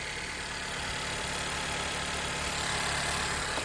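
A 2016 Honda Civic fitted with genuine Honda injectors idles steadily, a dense broadband rumble with a slight swell near the end, heard alone without speech.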